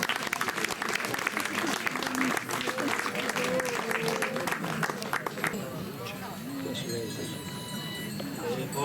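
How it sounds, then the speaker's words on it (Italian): An audience applauds for Domenico Muresu of Ossi at an evening poetry recitation, dense clapping that thins out after about five seconds. Voices murmur and speak underneath throughout. "Un applauso a Domenico Muresu."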